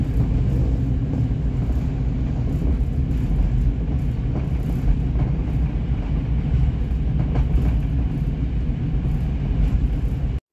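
A Hungarian diesel railcar runs on the Püspökladány–Biharkeresztes line, a steady loud rumble of engine and wheels heard from inside, continuous for the whole stretch with faint rattles and no talking.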